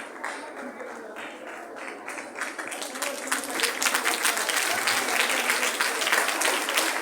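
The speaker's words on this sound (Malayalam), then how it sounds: "അദ്ദേഹത്തിന് എല്ലാവരും നല്ല നിറഞ്ഞ കയ്യടികൾ കൊടുക്കുക." An audience claps for the guest Boche as he arrives on stage, a steady dense applause that swells and grows louder over the seven seconds, with no voices above it.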